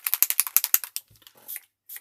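A can of rouge spray paint is shaken close by, producing about ten quick, evenly spaced rattling clacks that stop abruptly, followed by a few faint handling noises.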